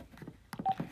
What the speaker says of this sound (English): You probably just heard my phone beep because I just got off the phone